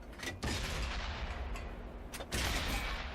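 The main gun of a Matilda tank fires in a tank video game, a few heavy booms in quick succession with long rumbling tails, loud and close, with no talk.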